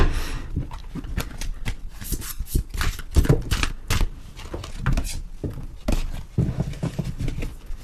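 Oracle cards being shuffled by hand during a tarot-style reading, giving a steady run of soft, close riffling and slapping taps with no talking.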